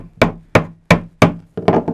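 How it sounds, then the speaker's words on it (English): Five sharp hammer blows strike willow on a wooden bench in a steady rhythm, close and loud, with short quiet gaps between them. "If you try to hammer while it's up, it's just a bouncy endeavor."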